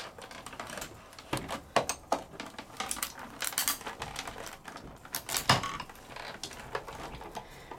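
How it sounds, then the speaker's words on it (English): A die cutting machine feeds a liner on a precision base plate, giving quiet, irregular mechanical clicks, ticks and rattles close by, with small louder knocks here and there. "I'm gonna send this on through and die cut that liner"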